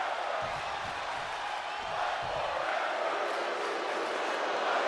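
Arena crowd noise from a WWE 2K wrestling video game broadcast, a steady loud roar of cheering that swells slightly toward the end and holds throughout.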